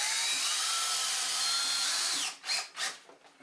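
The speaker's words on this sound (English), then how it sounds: "I'll finish putting screws in." Power drill driving screws through a mounting plate into plywood for a laundry ozone generator: a steady, close whirring run that stops abruptly, followed by a few short trigger bursts.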